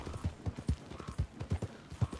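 Hooves of a horse named Sally, a Mustang, clip-clopping at an even walking rhythm in the video game Red Dead Redemption 2, dull repeated thuds close by with a faint background hum and no voices.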